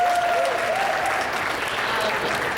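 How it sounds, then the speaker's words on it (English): A crowd applauds a supporter of the school dance teams with a loud, dense round of clapping and some cheering, sustained evenly from start to finish. "I'd like to give him a round of applause as well"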